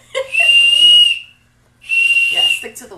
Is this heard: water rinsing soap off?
no